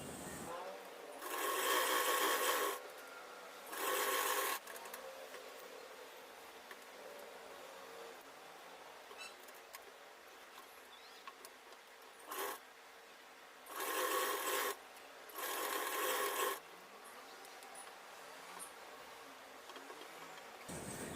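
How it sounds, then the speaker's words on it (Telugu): A sewing machine stitches a blouse lining in several short whirring bursts, two longer runs near the start and three more later, separated by quiet pauses with faint handling noises. "ఇప్పుడు కుట్టడం స్టార్ట్ చేద్దాము."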